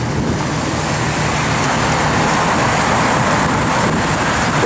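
A 1966 Pontiac GTO on the move, its engine droning steadily with a low rumble beneath continuous road and tire noise, loud and close from inside the car with no talking.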